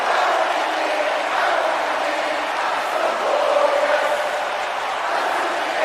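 At an Empire Wrestling show, the crowd keeps up a loud, continuous cheer with a few surges of shouting, filling the arena with a constant roar.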